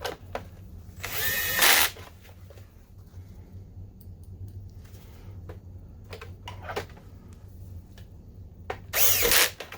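Power drill driving screws back into a BenQ HT1075 DLP projector, two short whirring bursts near the start and end, close and fairly loud, with quiet clicks and handling in between.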